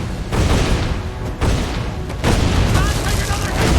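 Heavy ship cannon fire in Assassin's Creed IV: Black Flag, with two big booming volleys about a second apart over dense, roaring battle noise and shouted voices.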